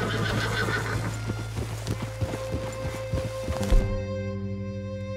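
A horse's hooves clip-clop at an even walking pace in Red Dead Redemption 2, close and clear, over a sustained musical tone that swells near the end.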